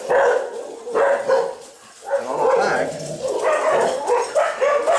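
Dogs bark and yip repeatedly in quick bursts, fairly close, mixed in with someone talking through the bursts.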